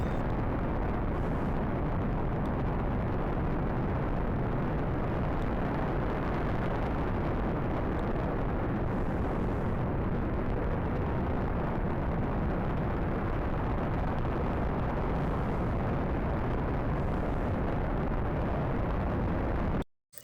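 A rocket's first stage fires its re-entry burn in the Pigeon 9 space game, a steady, dense roar that holds at constant loudness for about twenty seconds before cutting off abruptly.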